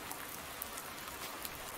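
Steady rain falls in the farming video game Farming Simulator 19, a soft continuous hiss of drops with a few faint patters, fairly quiet and without any voice.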